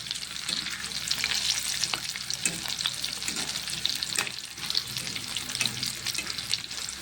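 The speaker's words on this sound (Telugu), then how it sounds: "ఇప్పుడు మంచిగా కాల్చుకోవాలి." Cut mirchi chilli snack frying in a pan, a steady dense sizzle of hot oil with occasional stirring scrapes and crackles, close and continuous throughout.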